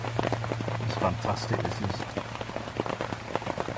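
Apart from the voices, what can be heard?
pouring rain on a Dutch army canvas tent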